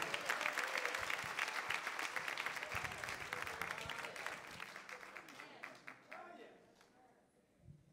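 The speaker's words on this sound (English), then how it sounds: "Give God a hand clap of praise." A church congregation claps in praise during a worship service. Dense, sustained applause lasts several seconds and gradually thins and fades, recorded faintly at low level.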